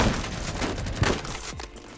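Gunfire in Phantom Forces, a World War II–style shooter game: a dense rattle of close shots, loud at first and thinning out toward the end of the short stretch.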